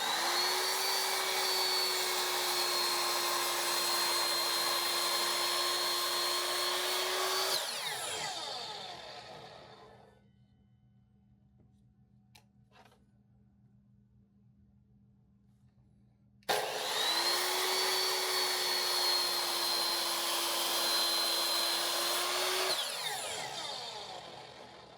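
A power tool saws 3/4 inch wooden coaster slices off a log in two long, loud, steady cuts of about seven seconds each, separated by a quiet pause.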